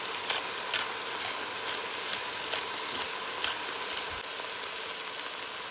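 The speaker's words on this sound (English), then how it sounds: "I'm just gonna fry the rice up for a little" Rice with split peas fries in a pot with a steady low sizzle, broken by light scrapes and taps of a spoon stirring now and then.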